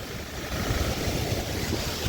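A large volume of water rushes steadily past at a roadside viewpoint in Kutch, a dense continuous roar mixed with gusty wind buffeting.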